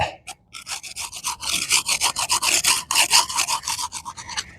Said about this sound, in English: First, scrape it.